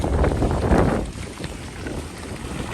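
Strong wind buffets the microphone outdoors during a road trip with a Mercedes 814 dump truck, a loud continuous roar that gusts hardest early and then settles into a steady rush, with no talking.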